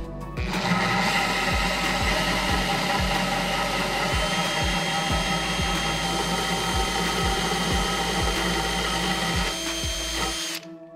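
A power drill whines steadily and close, with a rhythmic ticking grind repeating throughout as the bit bores through wetted aquarium glass, stopping abruptly near the end.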